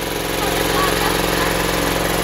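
An engine-driven water pump drawing clean water runs steadily with a loud, continuous mid-pitched chugging drone close by, with faint talk over it.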